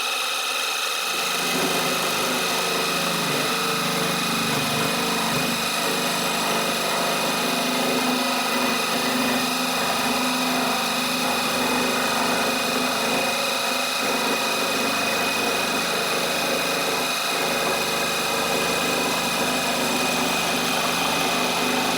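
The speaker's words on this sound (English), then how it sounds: "this next method is with a scroll saw" Scroll saw with a thin blade cutting f-holes in wood, a continuous close buzzing hum with a rapid reciprocating chatter that holds steady throughout.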